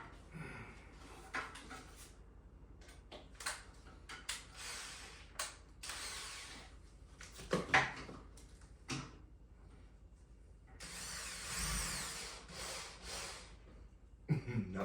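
A power drill whirs in short, faint bursts with a longer buzzing run near the end, drilling into a ceiling, mixed with scattered clicks and tool clatter.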